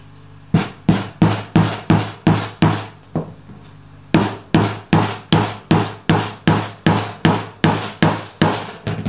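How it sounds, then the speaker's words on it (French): A hammer drives nails into wood with loud, close, sharp blows in a steady rhythm, about a dozen strikes, a brief pause, then another dozen evenly spaced hits. "je vais prendre le marteau et je vais essayer d'enfoncer les clous sur une hauteur assez suffisante"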